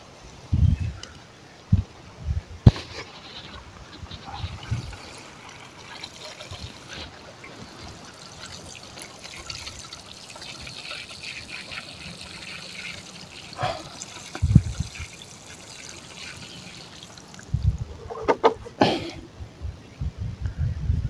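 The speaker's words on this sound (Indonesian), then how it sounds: "Coba saya siram sedikit dengan air" Water is poured lightly over a Premna microphylla bonsai, giving a soft, intermittent trickle and splash that comes in short bursts, with a cough and a few faint handling noises between them.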